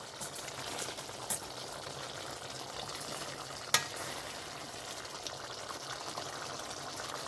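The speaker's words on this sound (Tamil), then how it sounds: "இப்போ எங்களோட தண்ணீர் நல்லா கொதித்து கொண்டிருக்கு" Water boils steadily in a pot holding cut paneer, a soft continuous bubbling and simmering hiss with one sharp clink partway through.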